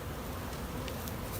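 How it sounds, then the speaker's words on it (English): A close, continuous low buzz from a mass of honeybees just shaken out of a box into a hive, droning evenly without a break. "We're going to dump all the bees into the hive."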